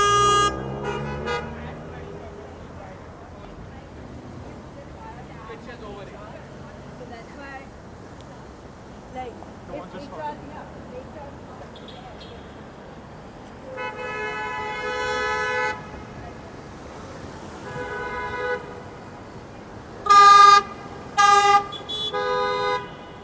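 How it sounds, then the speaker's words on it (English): Car horns honk repeatedly in Manhattan traffic on a Saturday night in November, with several short blasts and a couple of longer ones, louder toward the end, over street noise and a talking voice. "This driver got honked at by everybody behind him and on the side of him."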